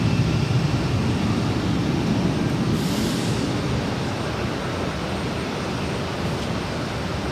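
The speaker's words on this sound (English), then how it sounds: "This is American Airlines 2616 taking off to Philly on the A321." An American Airlines Airbus A321 taking off from Boston Logan, heard as a loud, steady broadband jet roar that holds strong throughout and eases only slightly toward the end.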